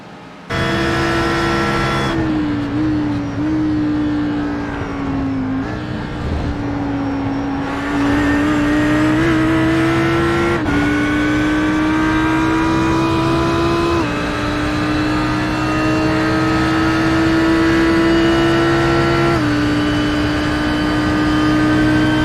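In a Daytona racing video game, a Ferrari and an Audi race car drone loudly and continuously, their engine pitch climbing and dropping with each gear shift, steady and up close with no voices.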